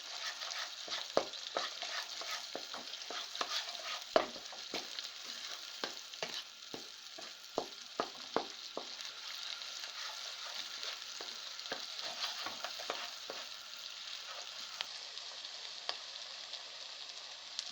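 Brain masala (maghaz) with ground coriander frying in a pan, a continuous close sizzle with repeated spoon-stirring scrapes and taps throughout, no voices.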